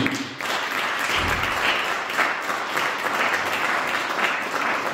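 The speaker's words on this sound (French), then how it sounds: "Si vous êtes là, acclamons pour le Seigneur Jésus." A church congregation applauds steadily during a worship service, a dense, sustained wash of clapping that fills the room at full volume throughout.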